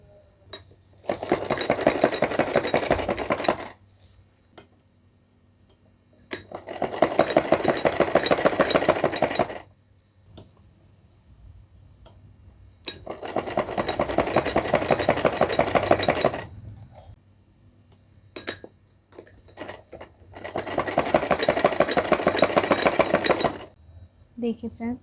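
Domestic sewing machine stitching a small festive dress for a Laddu Gopal deity doll, running in four long steady bursts of rapid needle chatter with quiet pauses between them, close and loud.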